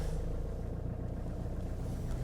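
A 1994 Toyota Hiace LH129 4x4 camper van with a 3L diesel engine, driven along with a low, steady engine drone and rumbling road noise, close and continuous with no talk.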